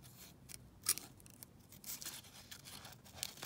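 Scissors cutting around pressed daisies, a quiet sequence of close, crisp snips and paper rustles at an uneven pace.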